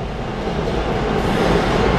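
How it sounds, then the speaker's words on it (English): A train rolls past at close range, a steady loud rumble of railcars on the rails that holds throughout with no talking. "And now the trains."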